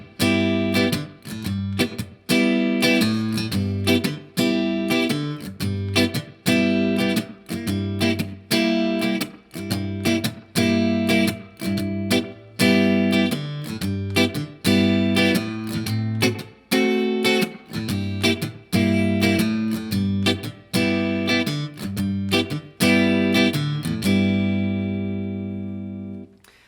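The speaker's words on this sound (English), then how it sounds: "Now I'm going to add in this bass note just for a little extra fullness." Blues guitar comping with bass notes added for fullness: steady rhythmic chord strums with ringing low notes, played alone and clearly, ending on a sustained chord.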